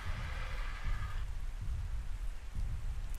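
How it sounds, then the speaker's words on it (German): Steady rain pours down in the survival game ARK Survival Ascended, a dense, even hiss with low rumbling underneath, continuous and fairly loud throughout the short stretch. "es regnet gerade"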